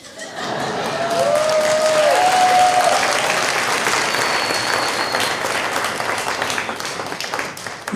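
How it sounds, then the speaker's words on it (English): An audience applauds a comedian at the end of a stand-up set: dense, sustained clapping swells in within the first half-second and holds loud and steady for the full length, with a few faint whistles threaded through the crowd noise. "You applaud louder when I'm leaving than when I come on."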